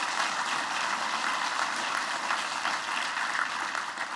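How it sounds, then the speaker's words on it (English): An audience applauds at a public event, a dense, even wash of clapping from many hands that carries steadily without pause and eases slightly at the end. "Give Steven another round of applause."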